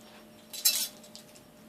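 Metal cutlery clinks in one quick rattling burst during an appearing cutlery magic trick, close and bright against a quiet room, followed by a faint second tap.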